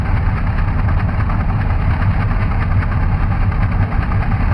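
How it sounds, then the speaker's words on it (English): The engine of an Antonov An-2 in a PC flight simulator idles around 1100 rpm, giving a loud, steady low throbbing drone with a fast regular pulse and no break. "We keep the engine revolutions around 1100 so that the generator charge indicator light does not light up"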